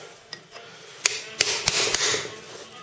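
A hammer striking a chisel to bend back the lock plate tabs on the bottom mount bolts of a 1937-1954 Chevrolet 3-speed transmission during disassembly: a few soft taps, then four sharp, close metallic blows about half a second apart.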